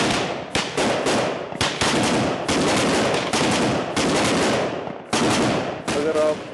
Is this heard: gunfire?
yes